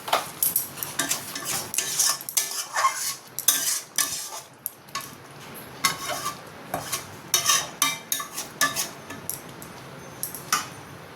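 Mango pickle is stirred with a roasted spice mix in a pan, repeated close scraping and clinking strokes of a spoon against metal in an uneven rhythm over a faint sizzle.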